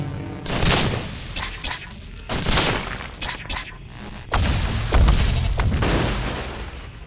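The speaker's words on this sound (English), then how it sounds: "Grenade launcher coming in." Grenade launcher explosions in the video game Cogmind hit in a rapid string of heavy booming blasts. The bursts come close together and repeat loudly across the whole stretch, with no voice over them.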